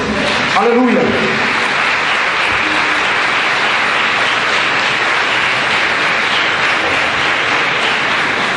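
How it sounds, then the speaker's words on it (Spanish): Loud, sustained applause from a church congregation at an evangelistic service fills the space throughout, dense and even, with a brief voice rising near the start. "Dale un fuerte aplauso a Jesús"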